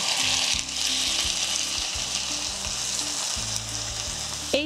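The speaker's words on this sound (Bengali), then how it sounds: "যে আদা পেঁয়াজ রসুন আর কাঁচা লঙ্কাটা আমি বেটে নিলাম সেটা দিয়ে ভালো করে কষিয়ে নেব" Potatoes sizzle steadily in hot oil with a paste of ginger, onion, garlic and green chilli, a close, dense frying hiss with occasional stirring scrapes.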